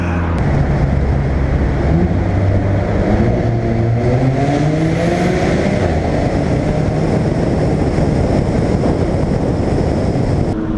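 Alfa Romeo 4C with its 1.75-liter turbocharged engine pulling hard, the engine note climbing through rising sweeps with steady road noise underneath, loud and continuous with no talk.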